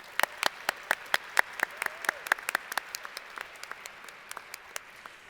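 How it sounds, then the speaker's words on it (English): Sparse, distinct hand claps from a small audience at an annual service recognition celebration, quiet and irregular with clear gaps, thinning out toward the end. "Let's give them another round of applause."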